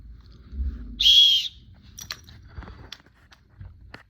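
A grey umpire whistle gives one short, loud, shrill blast, followed by faint rustling and small mouth and handling noises.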